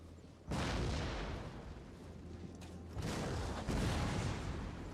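Massed units in Total War: Attila fire volleys in a dense roaring burst of crackling gunfire and booms. A brief lull follows before a second sustained wave of firing, loud and continuous.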